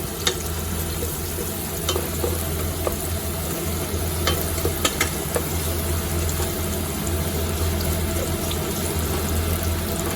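Plenty of ginger sautés in oil in a wok, giving a steady sizzle with scattered clicks of stirring throughout, no voices.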